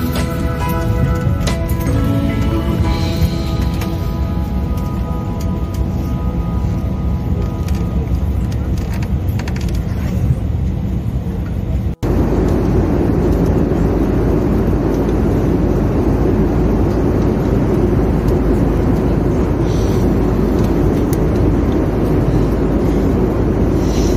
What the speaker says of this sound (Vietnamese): Bây giờ thì mình đã lên máy bay rồi này, bắt đầu chặng bay đầu tiên từ thành phố Ekaterinburg đi Moscow này.